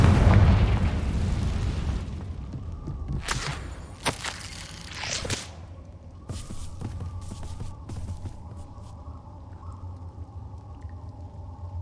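Fiery Confringo blast spells explode in the Hogwarts Legacy video game on PC, a loud booming burst up front followed by several sharp crackling pops and smaller bursts over a low rumbling game backdrop.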